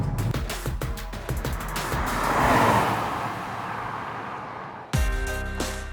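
A Peugeot 5008 with a 1.6 litre turbo four-cylinder driving past, engine rising to a broad whooshing peak and fading, with a sharp cut into a different engine note near the end.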